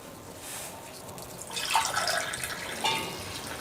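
Hot water is poured into a pot while making a home weight-loss drink, giving a splashing, trickling pour that starts halfway through and runs steadily, close and moderately loud, with no talking.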